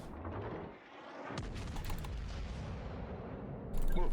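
Heavy naval gunfire from a battleship salvo in World of Warships, a dense roaring blast of booming shots that fills the clip, with a sharp fresh report near the end.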